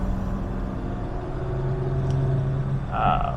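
A 1967 Jaguar Mark 2 cruises at 60 mph on a test drive, with a steady low engine drone and road rumble heard from inside the car.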